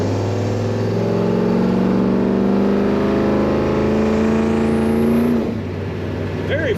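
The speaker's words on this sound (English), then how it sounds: "Very fun to push the throttle down on this truck. Strong running engine." A 1963 Ford F100 4x4 pickup's engine revs loud and close, holding a steady climbing drone for several seconds before the throttle drops off and it settles back toward idle.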